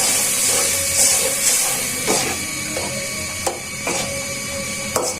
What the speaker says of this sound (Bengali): কষানোর জন্য হালকা একটু জল দিয়ে দিচ্ছি।